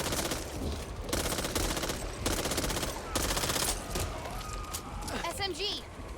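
Rapid SMG gunfire from the zombie shooter video game Back 4 Blood, several sustained automatic bursts close and loud throughout, with game effects and creature noises near the end and no talk heard.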